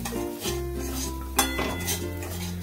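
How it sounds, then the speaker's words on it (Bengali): Semolina is stirred and roasted in ghee for a Bengali vegetarian festival dish, with metal utensil scrapes and clinks against the pan over a steady background hum, close and fairly loud, no speech. "এই সুজিটাকে ঘিয়ের মধ্যে ভালো করে একটু নাড়াচাড়া করব এবং ভেজে নেব"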